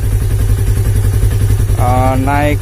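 A Honda CB150R motorcycle engine idles steadily up close with a fast, even putter, the bike suffering hard starting and a draining battery; someone talks over it and a rising tonal whine enters near the end.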